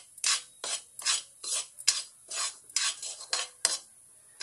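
Semolina stirred in a pan over a medium flame while being roasted for carrot peda, producing about a dozen rhythmic scraping, rasping strokes of a spoon against the metal, close and alone.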